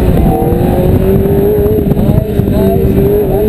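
A car accelerates on a race course with a loud, steady engine drone rising in pitch throughout, close and continuous, with no talk over it.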